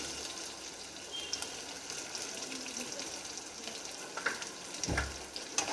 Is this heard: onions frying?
yes